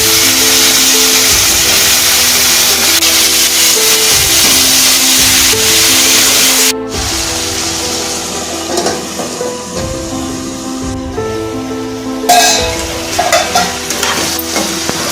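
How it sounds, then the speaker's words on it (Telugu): Cut ivy gourd pieces fry loudly in hot oil over a medium flame and are stirred now and then. A dense, steady sizzle runs throughout, with clattering stirs and a brief drop in the middle. "4 పావుల నూనె పోసుకొని నూనె వేడెక్కాక కట్ చేసుకున్న దొండకాయ ముక్కలు వేసి మధ్య మధ్యలో కలుపుకుంటూ మీడియం ఫ్లేమ్లో కాసేపు మగ్గనివ్వాలి."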